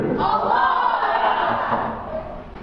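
Crowd at an Islamic religious talk shouting takbir in unison, a loud sustained chorus of many voices filling the room, then tapering off.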